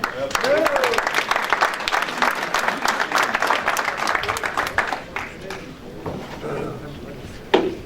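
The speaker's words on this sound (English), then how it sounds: "Give them both a round of applause." A crowd at a benefit auction breaks into a hearty round of applause for winning bidders, clapping densely for several seconds before thinning out, with a loud clack near the end.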